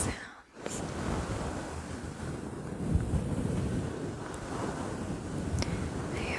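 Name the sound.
fluffy microphone cover being scratched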